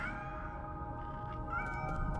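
A cat meows in the video game Nine Sols over a steady bed of game music and ambience, with the calls rising briefly near the end.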